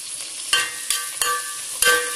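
Mint leaves frying in a pan of chicken biryani base, a steady hiss with four sharp bursts of sizzle and clatter as leaves are tossed in and stirred, close by with no talk.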